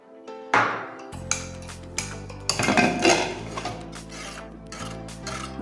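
A pressure cooker holding cooked beans for Kerala pumpkin erissery is opened after two whistles, with sharp metallic clanks and clinks of the lid and weight, several bright hits spread across the clip over a low steady hum.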